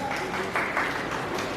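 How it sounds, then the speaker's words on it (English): A short burst of audience applause at a school event on communication and management: moderate, fairly even clapping that sounds a little distant, with a faint voice-like murmur mixed in. "A round of applause for the sir."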